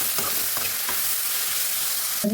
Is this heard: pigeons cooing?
no